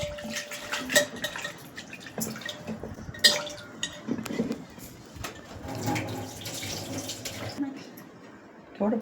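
Water is poured over finger millet soaking in a vessel in a home kitchen. Uneven splashes and gurgles come in bursts with a few clatters, close and fairly loud, and a faint voice sits underneath.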